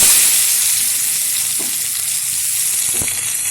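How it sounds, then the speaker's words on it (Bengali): Chopped onions dropped into hot oil with cumin seeds, frying with a loud, steady hiss and sizzle that carries on close and unbroken, with a couple of faint clicks from stirring. "এখন দিয়ে দেবো কুচিয়ে রাখা পেঁয়াজ।"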